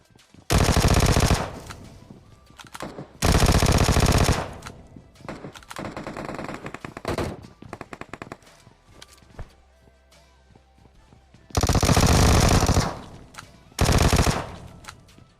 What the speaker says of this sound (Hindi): पीछे से कुछ फायरिंग का आवाज़ आ रहा था